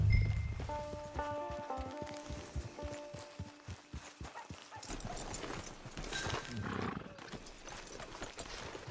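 A horse in the video game Red Dead Online snorts and whinnies, then its hooves clop in a quick run of steps nearby, with faint game ambience and brief talk.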